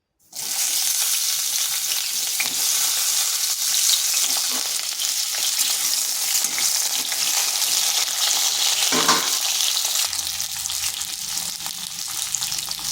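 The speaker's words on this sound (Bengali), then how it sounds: "পটলটাকে হালকা একটু ভেজে নেব" Halved pointed gourd pieces fry in mustard oil in a wok, a loud, steady sizzle running throughout with a brief stir or clatter near the nine-second mark.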